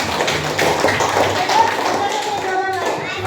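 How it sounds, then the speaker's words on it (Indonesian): A classroom of students applauds during a lesson on thermal expansion, a short burst of many hands clapping at close range with voices mixed in. "kita beri tepuk tangan"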